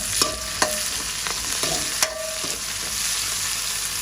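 Cumin and mustard seeds fry in hot oil with a loud, steady hiss, while a spoon clinks sharply against the pan a few times as they are stirred.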